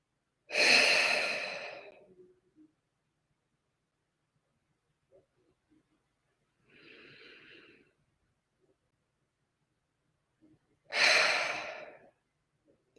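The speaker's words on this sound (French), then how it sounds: "respire profondément." Slow, deep breaths during a calm guided meditation: a long full exhale at the start, a softer breath in the middle and another long exhale near the end, close and intimate, separated by near silence.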